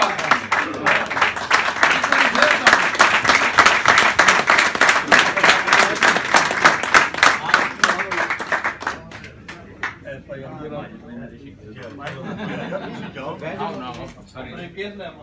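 An audience at a UK cup event in Peterborough claps in a dense, loud burst of applause for about nine seconds, then it thins out into lighter, scattered claps with background crowd noise.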